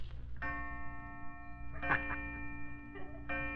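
A small decorative clock plays a chiming tune after a side lever is pulled, bright ringing tones sounding in spaced phrases across the clip in a quiet room, with no talk over them.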